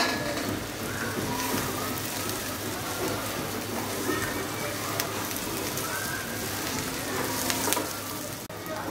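Garlic, then bitter gourd, fries in hot oil, giving a continuous close crackling sizzle with occasional sharper pops and stirring scrapes throughout.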